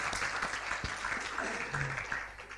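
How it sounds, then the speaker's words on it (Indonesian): Indoor audience at a formal cooperation-agreement signing ceremony clapping in a dense, continuous burst of applause that fills the whole moment, with faint talk mixed in. "Kita tepuk tangan dulu buat Tech Center kita."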